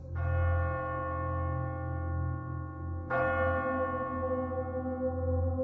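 A church bell in a village rings out as an emergency summons to a meeting, struck twice with long, loud, sustained tones and a second clear strike midway, alone without voices.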